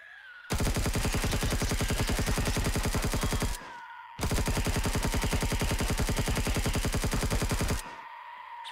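Loud sustained automatic gunfire in the video game Empyrion, aimed at creatures in an abandoned factory, in two long rapid bursts of about three seconds each separated by a short pause.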